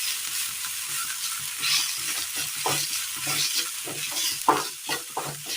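Spices being stirred into curry in a pan: a continuous, moderately loud sizzle with repeated scraping strokes of the stirring spoon, and no talk.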